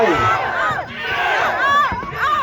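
Corner team and spectators yell and cheer at a Muay Thai fight, loud overlapping shouts rising and falling in bursts close by.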